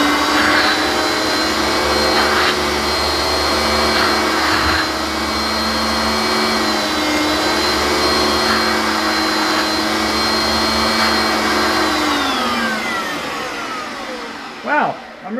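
Vacuum cleaner running steadily during a suction comparison test, a loud continuous close-up whine with a strong motor drone that holds for most of the stretch before winding down at the end.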